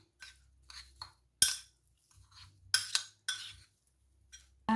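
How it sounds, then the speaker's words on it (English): A spoon clinks and scrapes against a bowl while meat is coated in spices, giving a series of sharp, separate taps and dull stirring sounds with quiet pauses between them. "I'm just gonna coat it in the spices. And just get your spoon in there."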